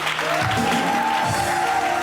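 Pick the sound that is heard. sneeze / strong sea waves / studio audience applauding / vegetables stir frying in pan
studio audience applauding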